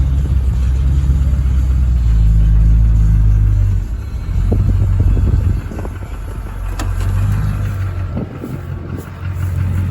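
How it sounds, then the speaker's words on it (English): A pickup truck engine idles nearby on a hot day at a hay field, a steady low rumble that dips and swells slightly as it keeps running without speech. "we'll just leave the truck running"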